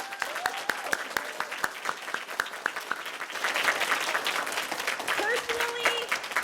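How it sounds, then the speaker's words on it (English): An audience at a lower school winter concert claps: individual sharp claps at first, swelling into fuller applause halfway through, with voices talking over it. "Let's give everyone a big round of applause"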